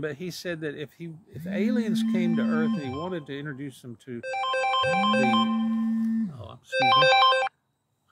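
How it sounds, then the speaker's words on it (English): An incoming call sets off a mobile phone ringtone that rings in melodic repeating bursts, loud and close, cutting over a man lecturing on Baroque music. "so that was a phone call trying to come in."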